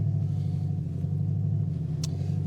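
The V8 engine of a TVR Chimaera 500 sports car runs at a steady idle, a deep, even rumble with a low throb and no revving.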